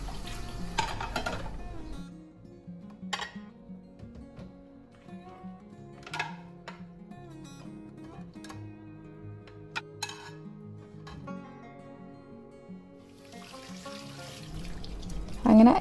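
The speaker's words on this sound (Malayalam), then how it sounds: "ഇതാ പാത്രമെല്ലാം കഴുകി വെക്കുന്ന" Dishes being washed in a home kitchen sink, with intermittent clinks of plates and pots against a steady trickle of running tap water, fairly close and moderate in level.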